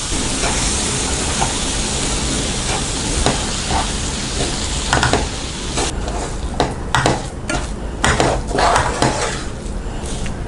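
A spoon scrapes and clatters against a pan as rava coconut laddu mixture with milk is stirred, with a soft steady sizzle underneath and irregular metallic knocks growing busier toward the end.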